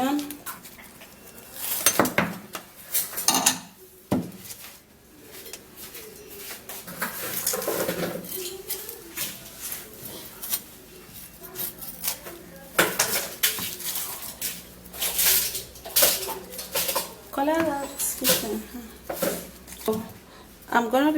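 Onion being prepared in a kitchen, with knife taps, clinks of utensils and dishes in irregular bursts close by, while someone talks throughout.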